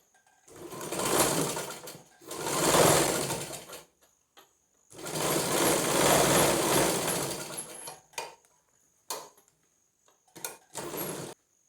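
A sewing machine stitches fabric for a zipper purse in loud, close, continuous runs of whirring, with two long bursts separated by pauses, followed by several short stop-start stitches and quiet gaps.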